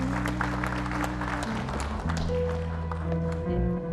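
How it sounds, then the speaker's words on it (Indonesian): An audience at a Yayasan Damandiri anniversary ceremony applauds, a dense patter of clapping running under loud sustained music tones for a few seconds. "Kita beri tepuk tangan."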